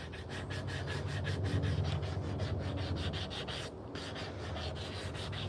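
Sandpaper rubs against a hand-carved wooden spoon in quick, regular back-and-forth strokes, a close, dry scratching rhythm that pauses briefly midway before resuming.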